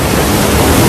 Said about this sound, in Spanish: las olas rompen las barreras de la ciudad.